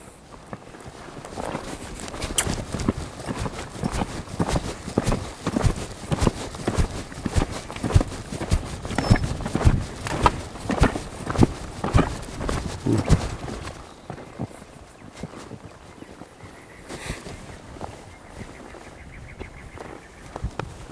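Hoofbeats of a horse at a lope during a training session, a steady rhythmic clip-clop close by that carries on for about thirteen seconds before fading as the horse slows and comes to a stop.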